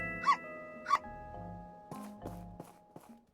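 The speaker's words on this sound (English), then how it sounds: "Hello, doggy. Have some meat." In Final Fantasy XIV, a dog gives two short yelps in the game, followed by tonal chimes and a few soft footstep-like taps.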